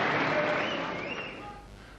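Crowd applause at the 1998 Benson & Hedges Masters snooker final at Wembley, a broad boisterous clatter of clapping that starts full and slowly thins and fades over two seconds, with no clear speech.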